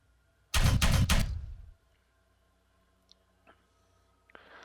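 Gunfire in Warhammer 40K Regicide: one loud close burst of three rapid shots with a short decaying tail, followed by near silence and a few faint clicks.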